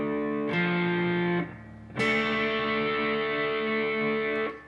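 Two slow, distorted electric guitar chords from the riff, each strummed once and left to ring loud and sustained, with a short gap between them and no talking.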